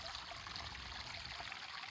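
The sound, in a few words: stream of flowing water at a waterfall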